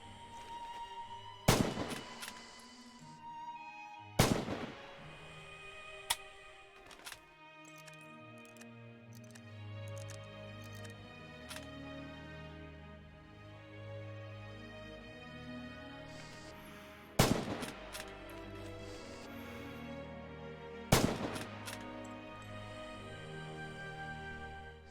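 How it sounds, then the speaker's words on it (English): Rifle shots in Red Orchestra 2: Heroes of Stalingrad, four loud sharp cracks spaced several seconds apart, each with a short ringing tail, over a steady bed of game music. "From standing position, open fire."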